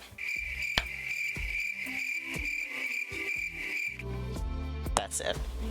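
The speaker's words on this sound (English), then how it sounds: "Username activated the crickets sound effect." A crickets sound effect chirps steadily, a constant shrill trill pulsing in a regular rhythm, close and clear, with faint background sounds beneath.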